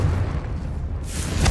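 Confringo explosive spell blast in Hogwarts Legacy, a loud booming rumble that swells into a bright crackling burst near the end, with no talking.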